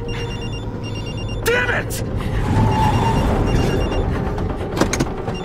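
A telephone bell rings repeatedly in a tense indoor scene, its tones running behind a shouted voice and other commotion throughout.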